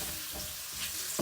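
Sliced shiitake mushrooms and garlic cloves frying in a glug of oil, a brief soft sizzle with light stirring for Korean bibimbap.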